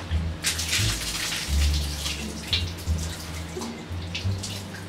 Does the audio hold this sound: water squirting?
yes